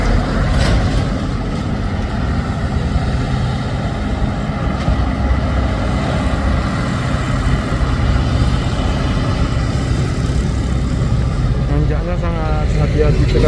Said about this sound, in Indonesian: Terlihat di bawah sana satu unit truk trailer Fuso yang bermuatan berat bosku, dimana teman-temannya sudah menanjak semua ya.